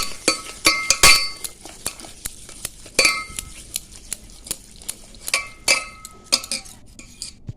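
Eggless cake batter being mixed with milk in a bowl: repeated sharp clinks and scrapes of a utensil against the bowl in an uneven stirring rhythm, close and fairly quiet, with no talking.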